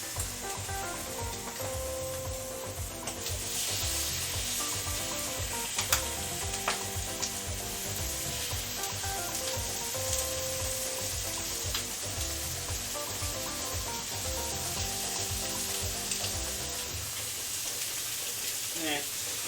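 Chicken thighs sear skin side down in a hot pan, giving a loud, continuous sizzle that crackles and spits steadily throughout, with brief talk underneath.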